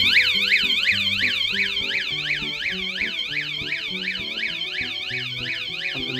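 A motorhome alarm system wails close by in a fast, repeating rising-and-falling siren tone, with a lower pulsing beep pattern underneath, loud and continuous.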